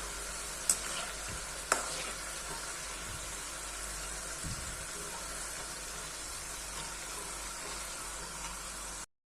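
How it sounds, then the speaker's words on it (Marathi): Thin khari shankarpali frying in hot oil while a slotted spoon keeps stirring them: a steady, even sizzle throughout, with a couple of sharp metallic clicks early on and a soft scrape partway through. "तसं सारखं झाऱ्याने हलवत राहायचं जेणेकरून कुठेही कच्चे राहिले नाही"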